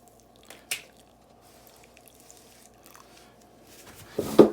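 Water trickles and drips into soil as potted cucumber seedlings are watered in an indoor winter greenhouse, with soft sparse drips and a louder splash near the end.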